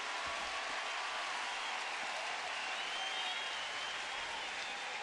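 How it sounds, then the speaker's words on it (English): A baseball crowd gives Omar Vizquel a standing ovation at a 2009 Texas at Cleveland game, with loud, continuous applause and cheering washing through the ballpark for the whole stretch. "Nice crowd ovation."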